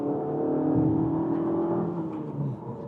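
A 2025 Mazda3 manual's naturally aspirated engine revs high, a close, steady engine tone that rises and holds near the top of the rev range before easing off, with no talk.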